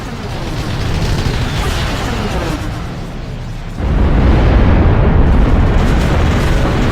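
Bombers obliterate the hacked Nexus in the sci-fi strategy game Ashes of the Singularity, a loud, dense rumble of continuous explosions that swells into an even heavier, sustained roar of blasts partway through.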